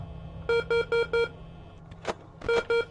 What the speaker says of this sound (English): I don't really know what this beeping means.